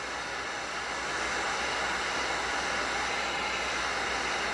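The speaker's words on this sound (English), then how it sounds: "Yeah, you do have to have a heat gun." Heat gun blowing hot air to warm wood burning paste on a personalized children's bench: a steady, loud broadband hiss of fan and airflow, continuous and close, with no talking.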